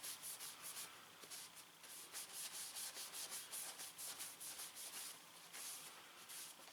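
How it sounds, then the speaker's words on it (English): Paper towel soaked in alcohol scrubbed hard over a stained wooden knife handle, a steady run of brisk rubbing strokes, close and fairly soft, with no voices. "Just rub it real good with that alcohol."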